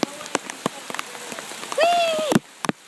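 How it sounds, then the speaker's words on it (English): Rain falls outdoors as scattered, sharp drops patter on a nearby surface, with a brief high-pitched vocal squeal in the middle. "It is raining."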